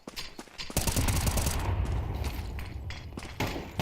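Rapid video game gunfire as a magazine is emptied in one sustained burst, dense and loud with cracking transients running nearly the whole moment, no talk.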